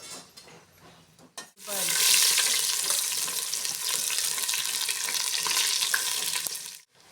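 Whole spices, cinnamon, star anise, cardamom and bay leaves, frying in hot oil for chicken biryani, a loud steady sizzle that bursts in after a brief quiet start and fades at the end.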